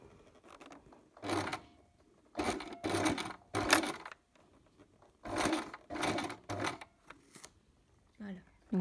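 A sewing machine stitches an invisible zipper in several short, quick mechanical bursts separated by quiet pauses.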